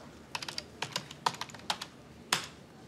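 Someone types on a computer keyboard in a quiet room: a short, irregular burst of crisp key clicks, a few clustered taps and then a final harder keystroke, fairly faint and with no voices.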